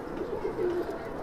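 A Kalsara breed pigeon gives a soft, low coo. It is one brief, quiet murmur close by, over faint background noise.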